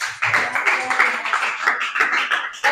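Classroom group applauding after a student presentation on bamboo, rattan and recycled-bottle crafts, a dense patter of many hands clapping at close range, steady for a couple of seconds.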